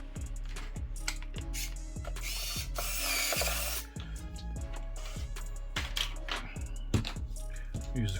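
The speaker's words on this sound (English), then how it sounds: "put one of the screws in" A ratcheting screwdriver driving a screw during an Xbox One S HDMI port repair, repeated quick clicking ratchet strokes in a steady rhythm, close and clear, with a brief louder scraping burst in the middle.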